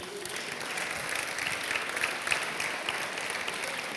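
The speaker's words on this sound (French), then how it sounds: "Merci d'applaudir très fort Nicolas Viennot." An audience at a mentoring launch ceremony applauds a speaker being welcomed, sustained thick clapping from a large crowd filling the room at a steady level, with faint voices underneath.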